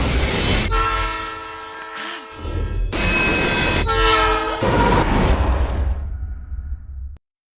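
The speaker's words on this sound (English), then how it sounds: "Chloe on a train track and the train barreling down at her" Train barreling down a track toward a person in Life is Strange: loud rumbling rail noise with repeated blaring horn blasts, clattering wheels and squeals, sustained close and powerful before cutting off abruptly.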